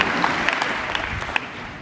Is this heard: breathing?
no